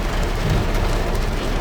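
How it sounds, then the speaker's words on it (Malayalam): Rain falling on a car's glass at the start of a rainy spell near a driving beach, a steady dense patter with low rumble, continuous and fairly close, no voices. "അപ്പോൾ ഇതാ നമ്മുടെ കാറിൻ്റെ ഗ്ലാസ്സിലെല്ലാം മഴത്തുള്ളികൾ ഓരോന്നായി വീണ് തുടങ്ങിയിട്ടുണ്ട്"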